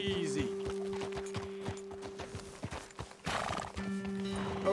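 A horse in Red Dead Redemption 2 whinnies and neighs amid rhythmic clip-clop of hooves on a trail, with a steady game tone underneath and a louder burst near the end.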